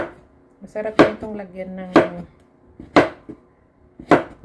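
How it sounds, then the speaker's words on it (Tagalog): A knife chops through a long squash (upo) on a cutting board in four sharp, evenly spaced strokes about a second apart, close and loud, while someone talks between the cuts. "i-chop-chop natin"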